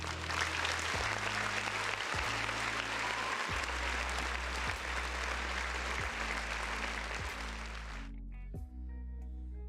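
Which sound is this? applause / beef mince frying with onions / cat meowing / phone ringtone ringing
applause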